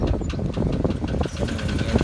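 A 1986 Chevrolet C30 pickup with a 454 V8, two-wheel drive and dual rear wheels, idling with a small engine knock, a close, steady rumble with a faint irregular tapping.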